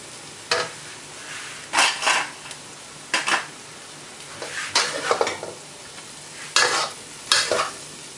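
Mama instant noodles being stir-fried in a pan: a soft frying hiss broken by repeated sharp scrapes and clatters of a utensil against the pan, arriving in irregular bursts every second or so, close up.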